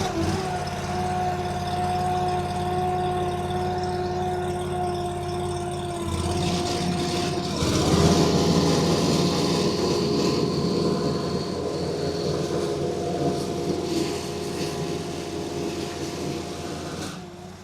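A Huayee LHY480 mini skid steer's engine runs steadily at idle with a low, droning hum, then rises to a rougher, louder note partway through before settling again. It sounds fairly close, and no one talks over it.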